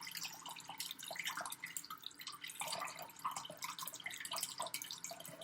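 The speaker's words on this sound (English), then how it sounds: "I'm going to run some cold water over it." Cold water from a tap runs over food being rinsed and pressed together, a steady spattering splash with drippy, irregular bursts, close by and fairly quiet, with no one talking.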